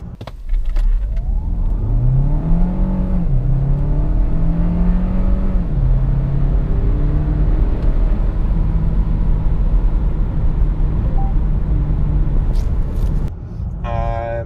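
A Kia Sportage Hybrid with 235 horsepower accelerating hard, its engine note climbing and shifting through several rising whines and drops, loud and close from inside the car, with a brief noise near the end.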